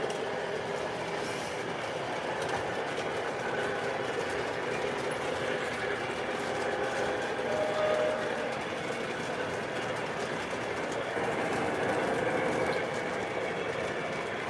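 A steady rumbling O scale model train engine sound feature with continuous mechanical clatter and rail noise, loud and constant throughout, with no voices.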